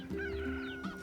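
Chickens clucking in the video game Nier Replicant, a short close burst of fowl calls over a steady tonal game background, with no talk.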